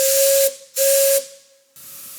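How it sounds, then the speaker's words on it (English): A steam locomotive's lower-toned brake whistle sounds in two steady, hissing blasts about half a second each, followed by a softer third burst of steam, loud and close. "This second whistle is a brake whistle"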